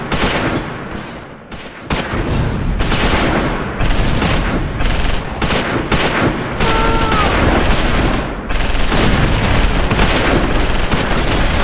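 Sustained heavy gunfire aimed at an anti-tank gun in the wartime strategy game Close Combat 5, a dense battle-of-the-Bulge fusillade of overlapping rifle and machine-gun bursts with booms, loud and continuous throughout.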